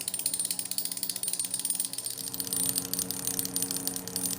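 Quarter coin wiggling on dry ice, rattling in a rapid, continuous buzzing chatter close by.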